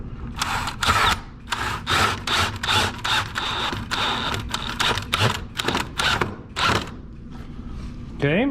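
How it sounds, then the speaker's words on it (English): A power drill drives screws into a clamped wooden face frame, sounding in repeated short whirring bursts with brief pauses between them, loud and close, ending with a rising whine as the last screw seats. "then go ahead and drive your screws in"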